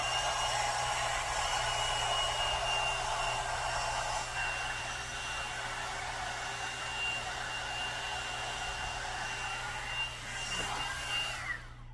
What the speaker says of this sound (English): then I'm gonna blow dry it, pulling in either direction of around my face